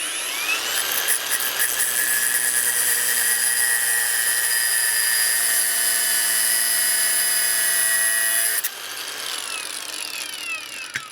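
A power tool shrieks at a high, steady pitch while cutting off the metal motor shaft of a 3 lb combat robot, loud and continuous for about eight seconds before dropping to a quieter winding-down whine.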